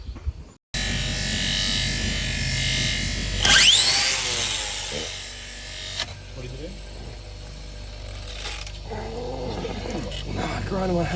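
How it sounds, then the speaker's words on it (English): An angle grinder trims a badly damaged cow's hoof, a loud steady whining roar that surges as the disc bites, then settles into a lower grinding rumble with scraping bursts. "we'll turn the grinder on with the disc in his hand"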